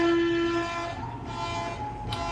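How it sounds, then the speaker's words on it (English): A Berlin U3 U-Bahn subway train at Rüdesheimer Platz hums and rumbles along the rails, opening with a steady high electric tone, then a continuous mechanical drone with a faint click near the end. "I really love the sound of U-Bahn and trains in general"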